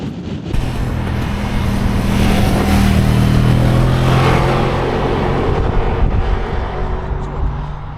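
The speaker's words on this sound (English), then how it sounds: "Thanks for watching my ride out on the bike." A 2025 Moto Guzzi Stelvio motorcycle cruises along a motorway, its engine drone steady and loud under heavy, continuous wind rush throughout.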